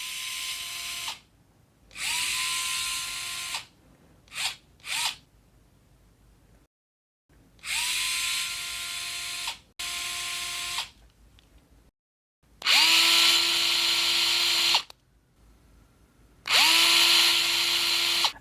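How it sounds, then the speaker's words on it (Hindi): Cordless power screwdriver fastening the positive and negative terminal bolts on a home-built 48V solar battery backup pack, whirring in several loud bursts of one to three seconds with short pauses between runs and no talk. "इसको स्क्रू ड्राइवर की मदद से हम जो है ना वो लगा"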